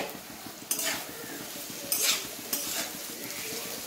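Chhana and potato fry in a pan, a close steady sizzle with a fast crackling patter, broken by a few scraping stirs of a spatula.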